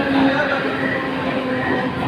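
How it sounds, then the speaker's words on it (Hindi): A local train from Karjat pulls into Neral station, a steady loud rumble and rolling roar of rail cars filling the platform, with no clear voices over it. "देखिए, अब लोकल ट्रेन आ रही है।"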